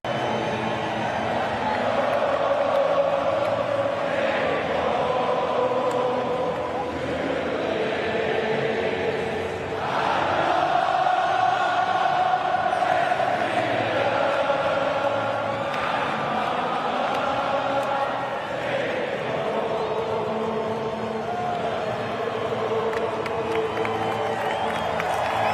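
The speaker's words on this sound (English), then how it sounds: "take a listen to this crowd from the Australia" A large football crowd at an Australia World Cup match roars and chants in waves, a dense, continuous stadium din with rising surges of cheering and scattered clapping throughout.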